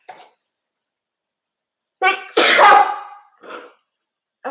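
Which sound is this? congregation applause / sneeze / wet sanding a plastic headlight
sneeze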